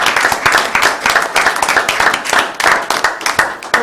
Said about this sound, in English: can we give all of our principals in here a round of applause?